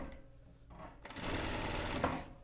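A sewing machine stitches fabric for a Chanel-style jacket, starting softly and then running in a steady, close whir for over a second before easing off.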